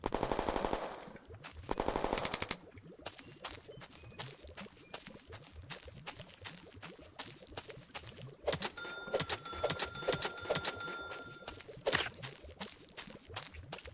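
Uzi submachine gun firing in a Godot-made video game, rapid, evenly spaced synthetic shots in long bursts with occasional ringing ding-like tones, steady and moderately loud with no talking.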